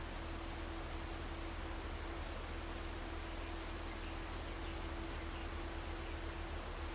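Steady rain falls in a farming simulator game, a continuous even hiss of drops with a low constant hum beneath, no voices.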